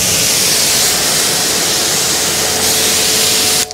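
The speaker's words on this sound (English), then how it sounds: "Okay, let's rinse it off." Water spray rinses a car care product off a car's paintwork, a loud, steady, close hiss that runs unbroken before cutting off abruptly.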